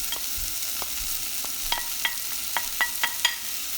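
Chicken breast frying and being stirred in a pan for Filipino arroz caldo, with a steady sizzle and sharp scraping clicks of the utensil at an uneven rhythm, close and moderately loud, with no talking.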